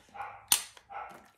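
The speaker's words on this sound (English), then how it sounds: "And that's Barley Barking, of course" A dog barks indoors, two short, mid-pitched barks with a sharp click between them, close and moderately loud.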